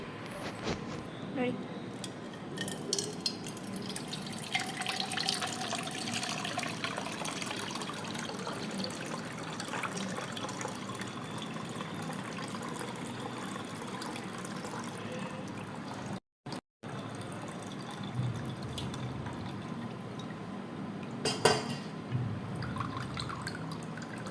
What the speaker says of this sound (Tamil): அதை அப்படியே நம்ம கொஞ்சம் வடிகட்டி எடுத்துக்கலாம்